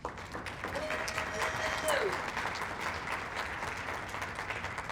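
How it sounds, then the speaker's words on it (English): Sustained audience applause at a tourism summit in a renovated hotel conference center, dense steady clapping from a large crowd for the full stretch, fairly distant and even, with a faint voice passing over it. "If we can give them a round of applause."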